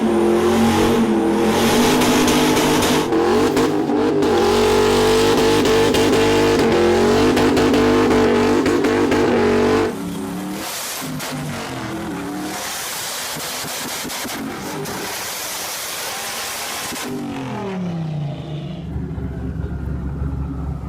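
A rotary-powered Mazda RX7 built to shoot flames revs hard and loud for about ten seconds, then drops to a rougher, pulsing idle with blips before tailing off near the end, with no talk over it.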